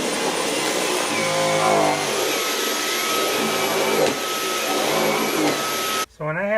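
A Dyson V11 Animal cordless vacuum cleaning a rug gives a loud, steady high whine with a shifting motor pitch as it is pushed back and forth, a voice faintly underneath, then cuts off near the end.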